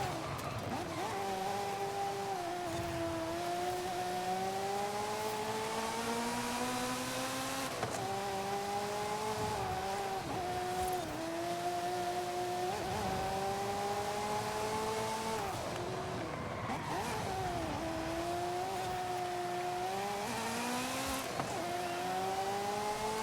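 Turbocharged vehicle accelerating hard, engine note repeatedly climbing through gears with short drops between shifts, loud and continuous throughout.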